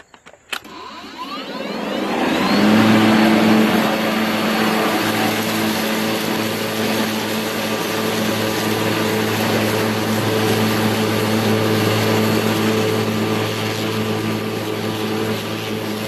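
A DeWalt 40-volt battery lawn mower cuts wet grass, starting with a click and spin-up into a loud, steady whirring blade drone with a constant hum that holds without bogging down, no talk.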